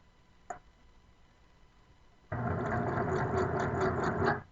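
A sewing machine stitching a seam at a quarter-inch allowance, starting after a single click and running steadily at a fast, even rhythm for about two seconds before stopping, close and clear with no talking.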